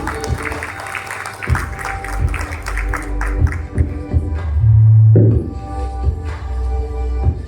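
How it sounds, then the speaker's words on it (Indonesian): A hospital event audience applauds for a doctor: a dense, fairly loud wash of clapping over a low murmur, with a brief louder swell in the middle before settling back. "tepuk tangan lagi buat Dr. Gamaliel dong."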